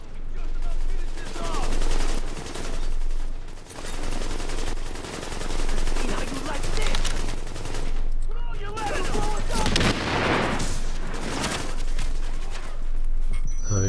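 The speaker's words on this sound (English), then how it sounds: "Why am I shooting while I'm standing in this?" Sustained bursts of automatic gunfire from The Division, with shots echoing in rapid rhythmic volleys that run the whole stretch, loud and close, while a player's voice talks over the shooting.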